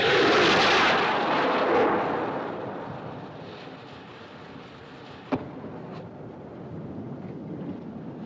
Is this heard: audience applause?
no